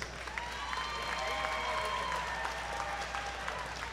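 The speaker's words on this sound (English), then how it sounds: "Ladies and gentlemen, a big round of applause for both of these fighters." Crowd applause at a televised MMA event after a fight, a continuous wash of clapping with cheering and raised voices from the arena, steady and slightly distant over a low hum.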